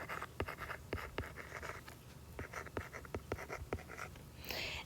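Pen writing by hand on paper, scratchy strokes and light taps forming numbers in an irregular rhythm, close and quiet, with no talk.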